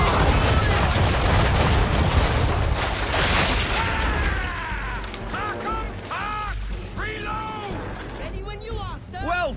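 Ship broadside cannon fire in Assassin's Creed 3, with loud rolling booms and a fusillade of blasts, then game speech and shouted commands over continuing battle noise.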